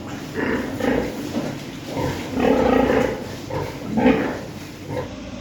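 Farm pigs grunt and squeal in a pen, a series of rough, nasal bursts coming in uneven pulses, fairly close and moderately loud with steady background noise.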